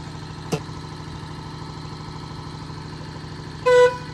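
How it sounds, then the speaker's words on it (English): Air horns fitted to a golf cart give one short, loud, tonal honk near the end, after a quieter steady hum from the idling cart and a brief sharp click earlier on. "It's got air horns."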